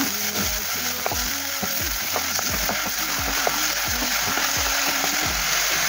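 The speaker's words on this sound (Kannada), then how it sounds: "tomato ಹಾಕೊಳ್ಳುವ ಒಂದೊಂದನ್ನೇ fry ಮಾಡ್ಕೊಳ್ಳುವ" Tomatoes fry in oil in a kadai for soya bhurji, a steady loud sizzle and crackle, with a spatula scraping and stirring in a repeated rhythm throughout.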